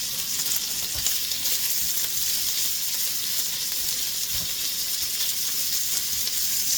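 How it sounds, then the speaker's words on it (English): Bacon and onions sizzle steadily in a hot pan on medium heat, a constant close crackling hiss with faint occasional stirring knocks. "Sizzle, sizzle."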